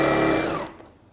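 Computerized embroidery sewing machine stitching in a short close burst, a dense buzzing run that fades away within about a second.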